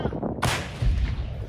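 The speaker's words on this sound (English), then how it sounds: "a Soviet-era T-72 tank fires into the distance" A Soviet-era T-72 tank fires its cannon into the distance from a hilltop above a city, one sudden loud boom followed by a rumbling, echoing tail.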